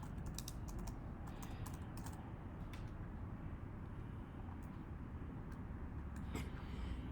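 A computer keyboard clatters with steady close typing of a library name, a run of quick key taps over a constant low background hum.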